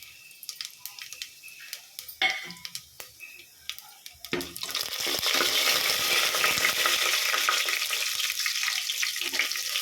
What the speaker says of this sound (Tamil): எண்ணெய் நல்லா காஞ்சதும் இதில் வந்து கடுகு ஜீரகம் சோம்பு பட்டை பிரிஞ்சி இலை இதெல்லாம் போட்டுக்கலாம்